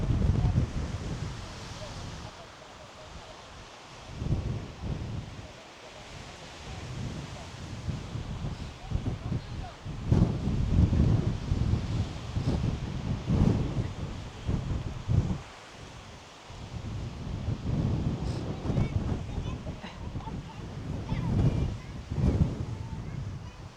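Gusty wind buffets the microphone on an exposed hilltop viewpoint in Skuleskogen National Park, Sweden, roaring in uneven surges with a rustle like leaves or distant surf, loud and close throughout the clip.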